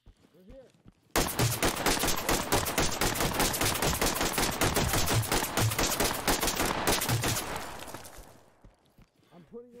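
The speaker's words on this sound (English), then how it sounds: "he unloads his entire mag into us" Sustained automatic gunfire in the tactical shooter Ready Or Not: after a short pause, a loud, rapid burst of shots runs unbroken for about seven seconds, then tapers off into quiet.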